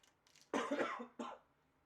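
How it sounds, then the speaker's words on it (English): A single soft cough, quiet and close, with a short catch of breath before and after. "I still have a cough"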